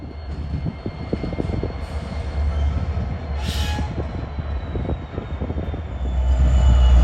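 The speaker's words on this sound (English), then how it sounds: "It takes a monstrous locomotive to be able to transport a load as large as that electrical generating turbine, a locomotive like the SD-70 ACE." A Norfolk Southern SD-70 ACE diesel locomotive hauling a heavy load such as an electrical generating turbine, giving a loud, steady low rumble and engine drone that swells near the end, with no talk.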